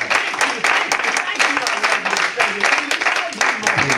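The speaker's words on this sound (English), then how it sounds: "Somebody put your hands together for Jesus." Applause from a church congregation at a Pentecostal service fills the space: dense, continuous clapping at steady strength, with voices and shouts mixed through it.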